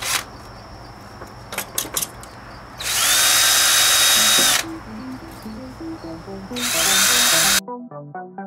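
Power tool scrubbing battery cable wires clean, two loud sustained whirring bursts of the motor after some clicks and handling noise, with background music rising near the end.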